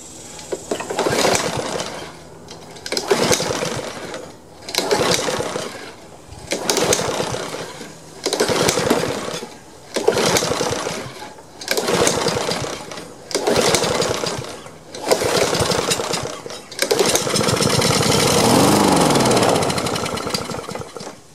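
A Poulan lawn mower in need of repair is pulled over and over, giving eight loud rhythmic bursts of sputtering engine cranking with short gaps between them, and the last one runs steadily for several seconds.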